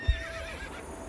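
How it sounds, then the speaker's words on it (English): A horse in the Star Stable video game gives a short whinny with a soft hoofbeat, brief and near, alone without speech. "there we go, fast gallop."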